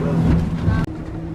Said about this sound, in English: Twin 350s. yeah, that boat moves.